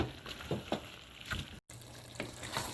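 Chili powder being stirred into sizzling mutton biryani in a pan, a steady close frying hiss with scraping stirs, briefly cut off before the sizzle resumes.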